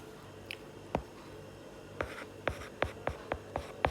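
Marker or chalk strokes writing terms on a classroom board: a few isolated taps early, then a quick run of sharp, close scratching strokes, with no speech.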